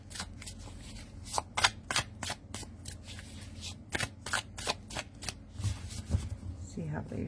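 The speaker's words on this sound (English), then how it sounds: "let me just shuffle real quick" A deck of cards being riffle-shuffled up close, producing repeated quick crisp fluttering bursts over a low background hum.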